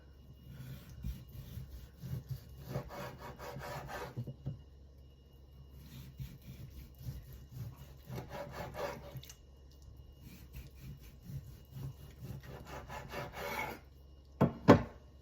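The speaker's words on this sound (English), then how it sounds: "The first thing we're gonna do is slice our pork." A knife slicing cooked pork for ramen makes quiet, close rasping strokes in several separate bursts, with near-silent gaps between cuts and a sharper knock at the end.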